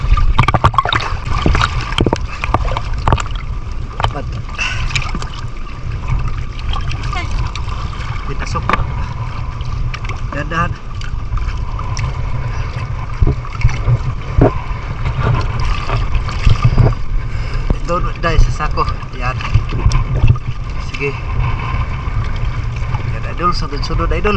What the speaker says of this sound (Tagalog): malakas kasi ang hangin at saka alon